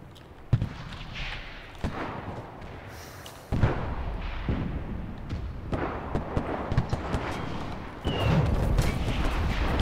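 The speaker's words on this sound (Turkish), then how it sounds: "Tank zaten bizi patlatıyor." Tank shelling in the video game Enlisted: heavy booming blasts and thuds land at irregular intervals, with several sharp close impacts and rumbling explosions over a continuous battle din.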